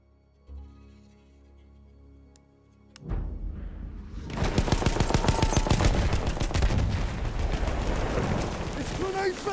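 Battlefield 1 Rush multiplayer combat: after a quieter opening with a thump, a loud sustained barrage of rapid gunfire and artillery booms erupts and rolls on continuously.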